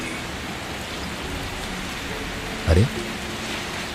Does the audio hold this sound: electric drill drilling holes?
no